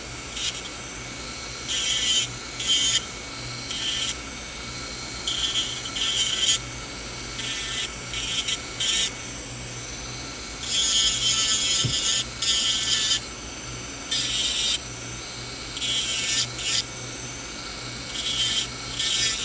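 A cone bit on an electric nail drill blends and seals a client's cuticles, giving steady close whining buzz with repeated rising and easing bursts as the bit touches the nail and skin, no voices.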